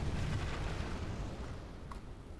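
Flaming missiles exploding in the Fourth Age Dwarves campaign video game: deep, rumbling blasts that overlap into a continuous roar, strongest at the start and slowly easing off.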